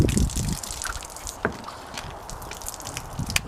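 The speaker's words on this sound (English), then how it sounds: "I got water coming through everything" Water flows through an extension wand on a pressure washer, a mix of splashing, dripping and trickling with scattered sharp spatters and no steady roar, fairly close.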